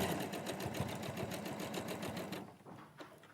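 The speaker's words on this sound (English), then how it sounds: "So we're just going to sew." Sewing machine stitching fabric in a fast, even mechanical rhythm of needle strokes for a couple of seconds before it stops, close and moderately quiet with no talk.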